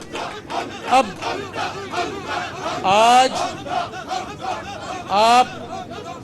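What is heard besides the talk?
crowd chanting slogans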